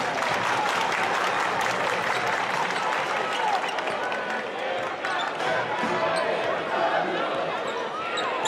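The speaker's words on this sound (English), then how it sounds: "Everybody clap your hands" A crowd at a Stanford versus USC Pac-12 basketball game claps steadily throughout, over ball bounces and court noise.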